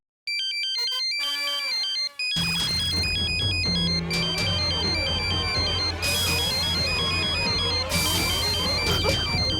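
Ringtone-style music chirps loudly, then a phone rings after a call is placed, with bright repeating electronic tones over dense background music from a TV sitcom scene.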